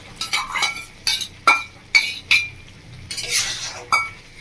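Kadai chicken being stirred and sautéed with coriander and ginger paste in a pan, a metal spoon scraping and clinking against the vessel in a series of sharp, close strokes with faint sizzling between them.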